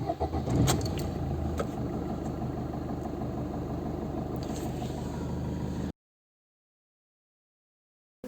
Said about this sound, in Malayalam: ഇനി നമുക്കൊന്ന് സ്റ്റാർട്ട് ചെയ്ത് നോക്കാം.